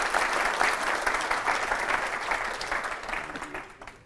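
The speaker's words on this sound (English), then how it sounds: "I would like to have a big applause for Frank." Conference audience applauding an auditing conference speaker, a steady full-room clapping that holds loud, then gradually thins and fades toward the end.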